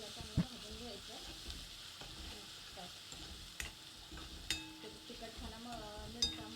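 Coarsely crushed garlic roasts in oil for a rajgira bhaji, giving a constant hissing sizzle with occasional clicks and taps from the pan and a faint tonal murmur in the background.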